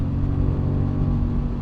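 Aprilia Tuono 660 motorcycle engine droning steadily with a low, rumbling note, heard alone and fairly close.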